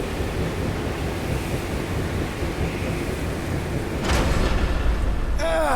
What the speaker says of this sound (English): Your feeble body cannot overpower such tremendous gusts!